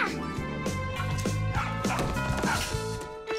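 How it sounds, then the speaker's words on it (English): Cartoon rabbits bark loudly like small dogs in a rapid run of yips and barks, with crashing hits mixed in. "Tom Thomas, please tell your rabbits that they can stop barking so loudly."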